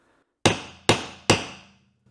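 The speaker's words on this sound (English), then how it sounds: "a small punch, just we'll try something a little more sharp than just a hammer" A hammer drives a small punch into luxury vinyl plank flooring, three sharp, evenly spaced loud strikes, each ringing briefly before fading.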